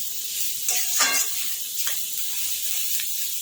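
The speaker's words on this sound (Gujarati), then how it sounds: "હવે બધું અચકચરું શેકવાનું છે આપણે મિક્સ કરીને" Sliced cabbage and vegetables stir-fried for veg hakka noodles give a steady close sizzle. A few louder scraping stirring strokes rise out of it.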